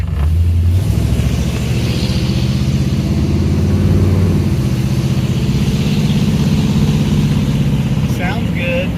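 A revived 1967 Chevy, abandoned for 15 years, runs and drives with a steady low engine rumble and road noise heard from inside, while people talk over it.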